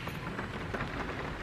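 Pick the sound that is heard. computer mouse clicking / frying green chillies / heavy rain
heavy rain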